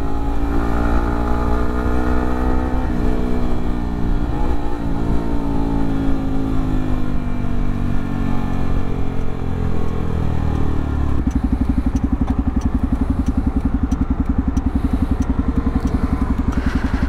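A Yamaha R15M motorcycle engine under way in gear, loud and close, holding a steady drone that eases lower and then settles into a rougher, pulsing note after a gear change.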